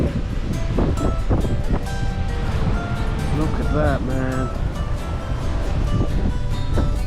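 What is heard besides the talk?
wind and waves at the sea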